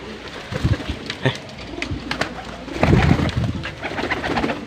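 Homing pigeons cooing close by in soft, low, throaty bursts, with several overlapping calls and light rustling around them.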